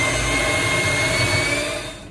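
An electric mixer whirs steadily through carrot cake bar batter, a close, loud, even motor drone that eases slightly toward the end.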